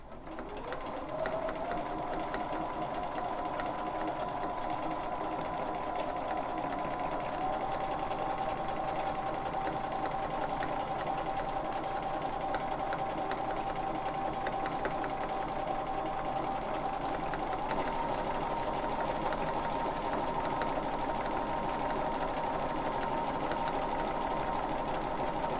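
A sewing machine quilting a ribbon candy stitch along a quilt edge runs in a steady, continuous mechanical hum and rapid needle rattle, close and unbroken, with no talk.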